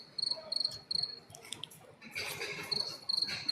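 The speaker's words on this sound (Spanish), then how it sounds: "se escucha un grillo" A cricket chirping in bursts of a few rapid pulses, repeating at a steady pace, fairly close and clear over a quiet background.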